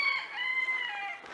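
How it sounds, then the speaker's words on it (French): A rooster crows close by in a hilltop town, one sustained, strained cock-a-doodle-doo that stays steady for over a second, with no talking over it. "avec le coq à côté qui s'exprime"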